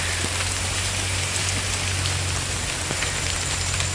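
Steady rain falls in an even, dense hiss throughout, with occasional brighter drop ticks and no voices.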